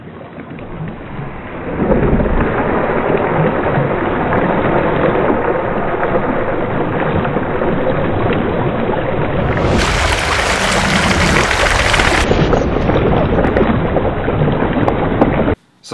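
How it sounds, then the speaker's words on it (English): Water from a garden hose gushes out in a sudden heavy rush after a kink is released, a loud continuous roaring spray that holds steady for several seconds. "as I released the kink, it added more pressure, and so we get this giant rush of water"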